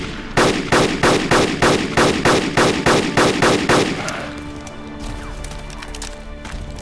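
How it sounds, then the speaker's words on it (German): Rapid rhythmic gunfire in the video game DayZ Mod, about a dozen loud evenly spaced shots over four seconds, then a lingering rumbling tail. "Oh, die haben mein Haus kaputt geschossen."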